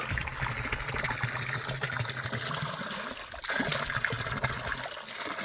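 Mountain water trickling and splashing at a high-altitude spot near the Acembol lakes in Torul, Gümüşhane, a continuous close burble with no talk over it.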